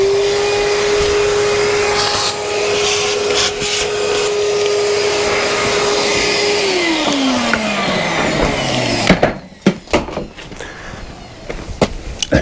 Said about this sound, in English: so I'm just going to get the vac.